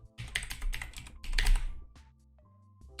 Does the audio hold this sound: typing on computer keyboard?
yes